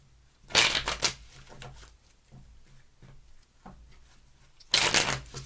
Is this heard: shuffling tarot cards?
yes